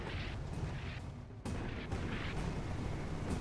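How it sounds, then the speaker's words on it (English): Heavy barrage and harpoon fire in a naval combat video game, rumbling booms and blasts layered over a continuous dense roar of battle, loud and close throughout. "Watch a barrage, another harpoon."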